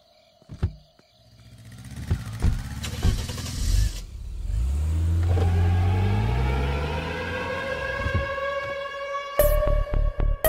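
A car engine starts and revs up, then the car drives off with a rising engine note under a musical soundtrack, and sharp bangs sound near the end.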